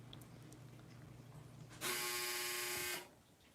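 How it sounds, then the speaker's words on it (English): A clothes dryer's end-of-cycle signal: one steady, loud electronic buzz lasting about a second, heard alone over a faint room hum. "I think the dryer's done."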